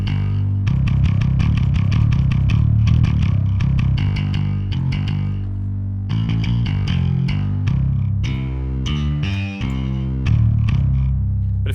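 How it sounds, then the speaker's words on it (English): A heavily distorted electric guitar plays loud chords and riffs through an overdriven amp, with brief pauses between phrases. "I really like the amp distortion."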